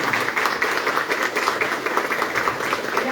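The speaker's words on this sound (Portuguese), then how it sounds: "Uma salva de palmas aí." Applause from an audience at an honoring ceremony for a colonel, a steady wash of many hands clapping at moderate level throughout, with faint voices mixed in.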